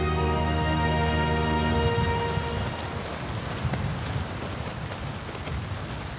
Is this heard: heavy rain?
yes